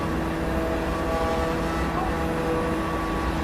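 Steady drone of a light airplane engine and propeller cruising over Charlotte, Michigan in Microsoft Flight Simulator 2024, an even, continuous hum with a faint tonal whine and no speech.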